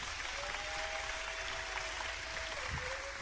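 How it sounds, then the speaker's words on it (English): A comedy show crowd applauds steadily throughout, a dense wash of clapping with a faint whistle-like tone running over it. "Round of applause"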